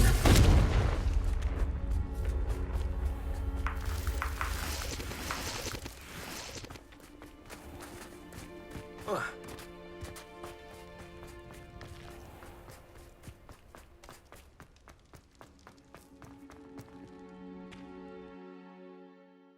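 A Confringo blasting spell explodes in Hogwarts Legacy with a loud burst at the start, followed by crackling debris and a long, fading rumble of game effects and music.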